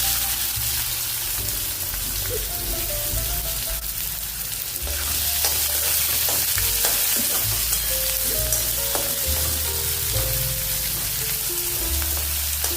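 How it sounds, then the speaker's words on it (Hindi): Onions frying steadily with whole spices and black pepper in a hot pan, a loud continuous crackle with occasional stirring scrapes and no talking. "इससे सुनहरा होने तक इसको भून लेंगे।"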